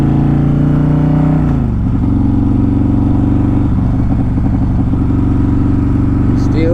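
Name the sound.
CVO motorcycle burnout, engine revving, burning rubber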